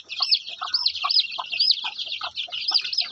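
Naked neck chickens cluck and chirp in a quick, steady stream of close calls. The cheeping and clucking sounds come alone, with no talk.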